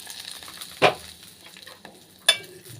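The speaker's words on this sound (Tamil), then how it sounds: "இப்போ தாளித்ததை வந்து இந்த மாங்காயில் சேர்த்துக்கிறேன்" A hot tempering of mustard seeds, dried red chillies and curry leaves hits raw green mango pickle in two short, sharp sizzling hisses, with quiet between them.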